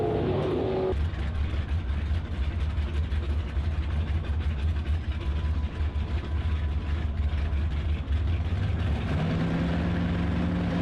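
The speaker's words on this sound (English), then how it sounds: "As Richie Pauley skyboxes the thing off the starting line and takes the Wimbledon White Mustang down to a 1041 at 125" A white 1968 Ford Mustang drag racing off the starting line in C/Stock automatic class eliminations gives a loud, sustained engine roar with a heavy low rumble, then pitch shifts near the end.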